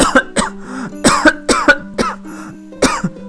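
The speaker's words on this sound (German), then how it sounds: "Kurzer Hustenanfall." A German Let's Play commentator has a short coughing fit while playing Inazuma Eleven 2 Feuersturm: repeated harsh, loud coughs close to the microphone in uneven bursts, over a steady tonal game soundtrack.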